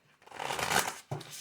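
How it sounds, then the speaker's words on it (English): Tarot cards shuffled by hand in a short burst, a brisk riffling flutter followed by a brief pause and a second quick shuffle, close and fairly quiet with no talking. "I'll do 3 more shuffles"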